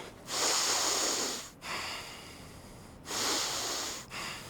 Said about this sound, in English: With your nasal breathing, I'd rather have you do this